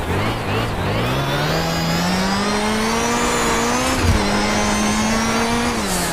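A Group B Lancia Delta S4 rally car climbs a steep mountain road, its engine droning loud and steady with a slowly rising pitch, a brief dip as it shifts, then pulling hard again.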